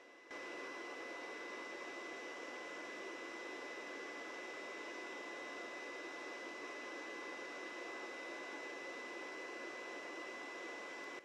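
A handheld induction heater warms the end of a steel bar for blacksmith upsetting, giving off a steady, even electrical whir and hum with a faint high whine. It holds unchanged for about eleven seconds, quiet and close, with no talking.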